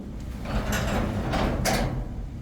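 A mechanical rumble with rhythmic scraping and sliding bursts, like a door panel being lifted on tracks, steady and close.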